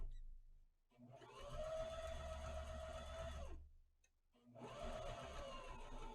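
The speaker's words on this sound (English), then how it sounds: "Backstitch, keep sewing around. Okay, all you're doing is sewing it." Sewing machine stitching around a fabric fashion mask, with backstitching: two steady mechanical whirring runs, the first about two and a half seconds long, then a short pause and a second run, close and moderately loud with no voices.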